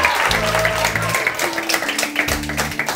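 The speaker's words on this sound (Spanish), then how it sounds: "pueden ustedes aplaudir" A studio audience at a Spanish variety show claps continuously over tonal music, sustained applause throughout.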